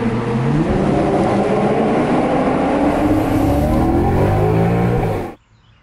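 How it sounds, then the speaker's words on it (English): A deep, loud naturally aspirated V8 engine roar on a Maserati holds steady with rising and falling harmonics, then cuts off abruptly near the end. "just that beautiful roar of that naturally aspirated V8."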